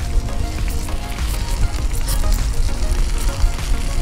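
Panko-crusted bacon fries on a Blackstone griddle with a loud, dense, continuous sizzle and crackle, close up and unbroken, with no talking.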